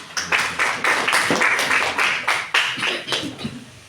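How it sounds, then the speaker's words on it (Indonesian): An elementary school classroom of children clapping their hands in a quick, steady run of about eight sharp claps, fairly close and loud, with almost no talk. "Ya, tepuk tangan."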